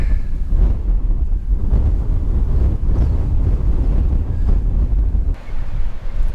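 Strong, steady wind buffets the microphone on an exposed coastal hiking trail at Kaʻena Point, Oʻahu, a loud continuous roar with gusts and a brief lull near the end.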